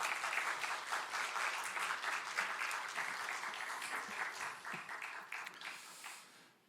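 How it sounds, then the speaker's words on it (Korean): A church congregation claps to welcome a missionary speaker at a Sunday worship service, with dense, sustained applause that fills the room and gradually thins out toward the end. "나오실 때 큰 박수로 환영해 주시기 바랍니다"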